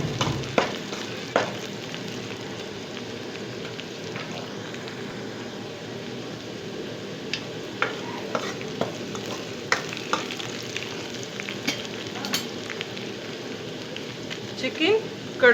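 Spices such as kadai masala and turmeric frying in a kadai for chicken curry, a steady close sizzle with scraping stirring clicks throughout.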